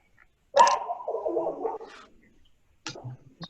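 A dog barks and yelps nearby, one drawn-out bark that trails into a whine, then a couple of short yips after a pause, heard alone in a quiet room.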